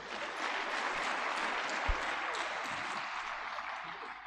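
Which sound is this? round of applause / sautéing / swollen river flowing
round of applause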